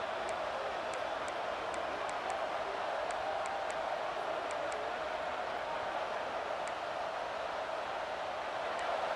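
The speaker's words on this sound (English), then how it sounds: "this home crowd is fired up and ready to make a difference today" Home crowd in the College Football 26 video game stadium, a broad continuous roar of cheering fans held at an even level for several seconds, with faint clicks above the steady wash.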